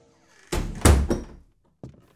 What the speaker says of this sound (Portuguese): Quando muda a temperatura, essas madeiras estalam assim.